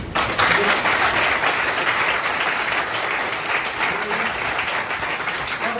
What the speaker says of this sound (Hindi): एक क्लास मेरी दोनों बच्चों के लिए तालियां।